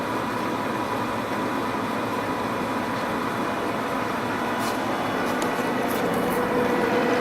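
A Deckel FP2 universal milling machine runs slowly at 200 RPM in a machinery shop, a steady low mechanical hum and broadband drone that holds evenly throughout, with faint clicks near the end.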